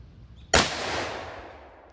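A single loud gunshot from a Rossi Brawler handgun, a sharp close crack followed by a long decaying outdoor boom and reverberation.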